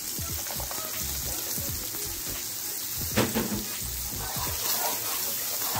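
Garlic and onions fry in a pan with a soft, steady sizzle and crackle. Low rumbling and faint handling noises run underneath, with a brief louder clatter near the middle.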